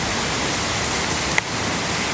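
Water pours down like rain inside a dark rocky gorge, a loud, continuous hiss of falling droplets and spray surrounding the listener, with a faint tap partway through.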